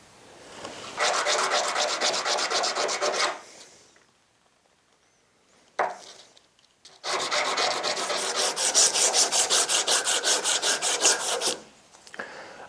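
A steel screwdriver ferrule on a 1949 American screwdriver is rubbed with 240 grit sandpaper in two long passes of rapid rhythmic back-and-forth strokes, close and scratchy, with a brief pause and a few single scrapes between.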